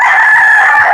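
A rooster crows loudly and close by in one sustained, strained call, heard at a cockfighting-rooster sale in Carbon, Cebu.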